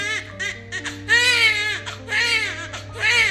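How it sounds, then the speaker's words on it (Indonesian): A baby's shrill screams and wails come in repeated rising bursts over a low steady drone, used as an eerie effect in a spoken Indonesian horror story about a wealth-seeking pact. "samar-samar si Toto mendengar suara jeritan bayi"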